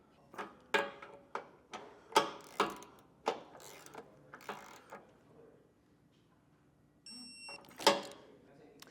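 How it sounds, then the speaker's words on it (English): A torque wrench clicks in a series of sharp, close ticks while hitch bolts on a 2024 Volvo XC40 are tightened for a Curt trailer hitch receiver, with a person talking between the clicks. "Taking our torque wrench, we are going to torque these down to the manufacturer specifications"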